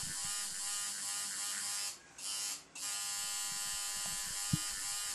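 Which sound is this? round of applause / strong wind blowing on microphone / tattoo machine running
tattoo machine running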